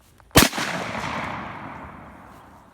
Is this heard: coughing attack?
no